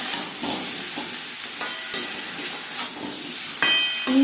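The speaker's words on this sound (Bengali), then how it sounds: "আলুর সাথে পটল হালকা করে ভেজে নেব" Potatoes and pointed gourd (potol) frying lightly together in a pan, heard as a constant close sizzle broken by several soft stirring scrapes and clinks.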